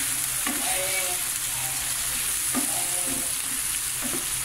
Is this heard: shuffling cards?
no